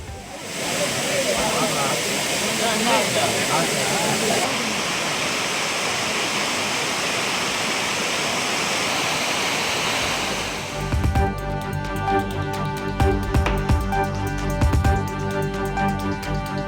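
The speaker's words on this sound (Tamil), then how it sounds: "மேற்கு தொடர்ச்சி மலைப்பகுதிகளில் பெய்த கனமழை காரணமாக குற்றாலம் அருவிகளில் வெள்ளப்பெருக்கு." Courtallam waterfalls in flood after heavy rain in the Western Ghats, a loud, steady roar of rushing water close by that continues without break, with some overlaid sound shifting in its final seconds.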